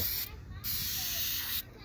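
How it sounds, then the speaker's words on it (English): Aerosol spray can misting paint onto a car shifter shaft, two close, steady hissing bursts of about a third and a half second each, separated by a short pause over low background noise. "I've already started spraying the shaft"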